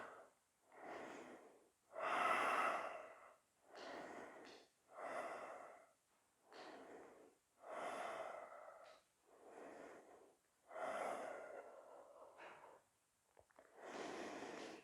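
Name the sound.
strong breathing during yoga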